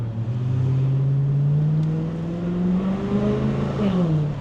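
A car engine with an aftermarket exhaust, from a BMW 645ci or Mercedes CLK55 AMG, drones steadily with a deep, throaty note, rising slightly in pitch then easing off, loud and close throughout.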